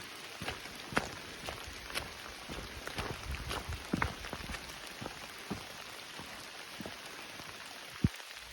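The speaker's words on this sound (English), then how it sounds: "as you can see, it's raining." Steady rain patters on a shelter along the Appalachian Trail at Dick's Creek, a dense hiss of drops with sharper nearby splats and occasional heavier knocks, close and continuous with no talking.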